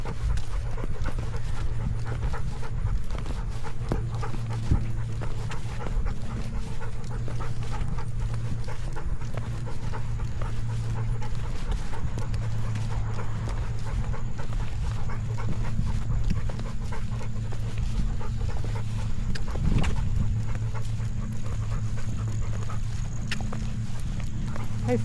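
A dog named Lady Liberty panting hard as she bolts off-leash on a relaxation walk, with steady rapid breathing and rhythmic footfalls over constant outdoor noise throughout.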